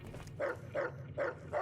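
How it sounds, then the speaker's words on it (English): Dogs bark in the video game Fallout: New Vegas, four evenly spaced barks at moderate volume with no talking over them. "Okay, this is a lot of dogs."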